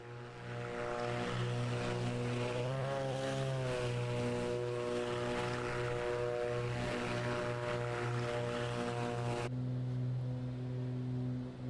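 A simulated B58 propeller aircraft climbs with a steady, droning engine and propeller tone throughout, its pitch shifting slightly partway, with no talking.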